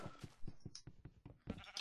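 Sheep bleating in the video game Minecraft, a short run of repeated bleats in quick succession, fairly close and clear with no talk over them.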